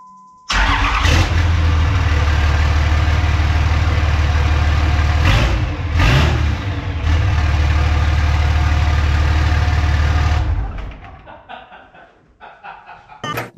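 A Cummins 5.9 diesel engine running with only the downpipe cranks, fires loudly and idles with a heavy, steady rumble for several seconds, then shuts off into quiet clicks.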